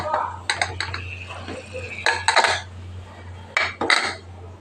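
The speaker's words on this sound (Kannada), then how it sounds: "ಕುಕ್ಕರ್ದು ಮುಚ್ಚಳ ಹಾಕ್ತಾಯಿದ್ದೀನಿ." A metal pressure cooker lid is set on and closed over a pot of moong dal, giving several sharp clanks and clinks in quick bursts over a low steady hum.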